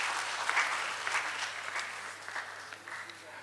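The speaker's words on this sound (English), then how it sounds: "Please welcome him with a big applause" Seminar audience applause at an entrepreneurship event, a dense, even patter of many hands clapping at moderate volume for a few seconds, slowly thinning.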